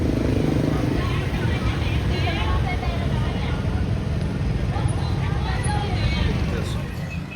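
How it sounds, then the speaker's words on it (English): Motorbikes and traffic rumble along a loud Saigon street in Ho Chi Minh City, a dense close wash of engine noise and passing bikes that stays steady throughout, with voices faintly underneath. "There's motorbikes running through."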